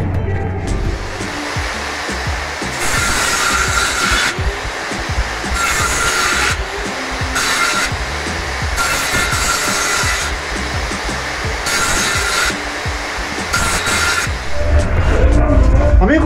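Hand sawing of wooden boards for a hollow-core door, done with basic tools rather than a miter saw: a loud, steady rasping stroke noise running throughout, with bursts of brighter cutting at regular intervals.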